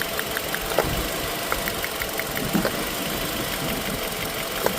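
A Nissan X-Trail engine idles with cylinder two misfiring from an ignition fault, a steady low rumble broken by occasional uneven knocks and ticks, heard close and alone.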